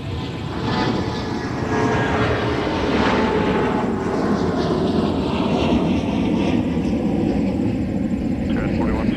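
A charter plane at MSP airport, a continuous loud engine roar that rises and holds steady, heard from the airfield with faint voices in the background.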